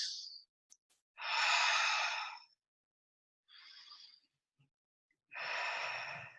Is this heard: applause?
no